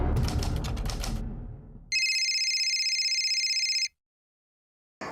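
A burst of clattering gives way to an electronic phone ring lasting about two seconds, followed by silence and the start of another ring.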